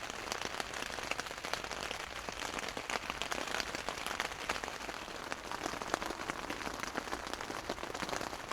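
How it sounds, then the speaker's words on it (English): Steady rain patters on a new tent in Cumbria, a dense, even, close drumming of drops on fabric that goes on without a break and with no voices. "It's raining."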